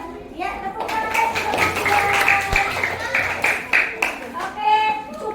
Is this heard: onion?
no